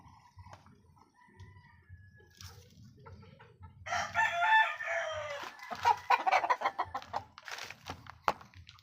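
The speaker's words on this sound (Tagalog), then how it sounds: "napakalaking manok na yan guys" A large chicken crows and clucks outdoors on a small poultry farm, with soft intermittent clucks at first, then a loud, close, drawn-out rooster crow, followed by a series of sharp clucking calls.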